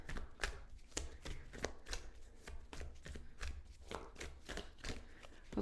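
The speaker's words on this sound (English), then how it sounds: "I'm going to shuffle a bit more." Tarot cards are shuffled by hand in a soft, continuous run of quick riffling and sliding taps, close and fairly quiet with no talking.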